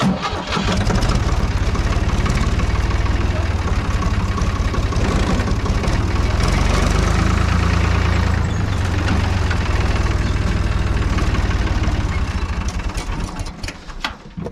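A Ford tractor used for hauling hay bales cranks and fires up, then settles into a loud, close, steady diesel idle with a knocking rumble that runs throughout.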